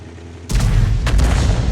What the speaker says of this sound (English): He's taking fire from the SU-152.